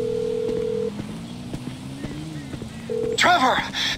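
Phone call tones in the GTA V video game, with two steady ring-back tones separated by a pause over low background noise, then a brief burst of chirpy electronic sound at the end.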